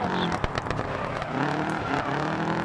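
A Subaru Impreza WRC 2001 rally car engine revs and roars in the video game DiRT Rally, loud and close, with gear changes and tire noise over the steady drone.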